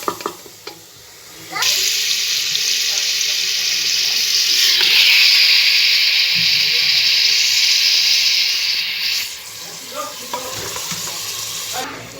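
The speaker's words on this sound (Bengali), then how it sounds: "এখন মশলাটা আমি কষিয়ে নিচ্ছি।" Spice paste sizzles steadily in a hot pot as it is fried, a loud bright hiss that swells in and holds for several seconds with a few faint stirring clinks before easing off near the end.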